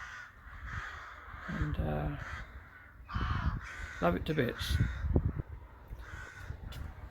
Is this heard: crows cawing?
yes